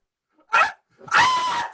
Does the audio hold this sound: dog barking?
yes